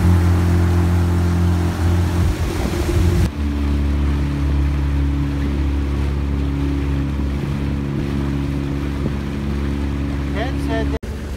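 Steady drone of a boat motor with wind buffeting the microphone and water rushing past, continuous throughout with a sharp click near the end.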